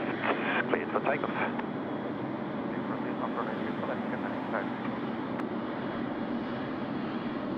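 A Qatar Airways A380 prepares for takeoff at Sydney Airport, giving a steady distant jet roar, while a voice talks over it near the start.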